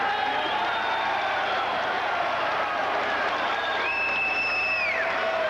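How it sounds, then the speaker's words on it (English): At a WBA cruiserweight title boxing match, an arena crowd roars and claps in a loud continuous wash. Thin whistle-like tones and a commentator's voice ride over the top. "Let the crowd tell the story."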